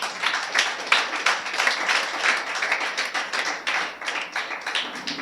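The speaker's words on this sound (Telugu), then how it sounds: "చప్పట్లు కొట్టాలి ఒకసారి" A church congregation breaks into sustained applause, many hands clapping densely and fairly loudly throughout, with no words spoken over it.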